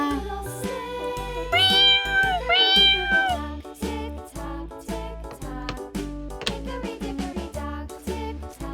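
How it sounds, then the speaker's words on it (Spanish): A kitten in a children's animal-sounds puzzle meows twice in quick succession, rising and falling, over bright, busy music that continues throughout. "Luego tenemos un gatito."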